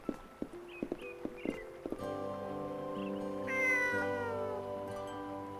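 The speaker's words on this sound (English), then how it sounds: "Oh, it's a cat." In the video game Eternal Sonata, hooves clip-clop in a steady rhythm, then a cat meows over a sustained musical drone, with another short meow near the end.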